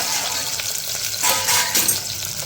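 Sweet potato slices frying in a pan give off a continuous bright sizzle with a few louder swells as they are moved about, close up and without speech.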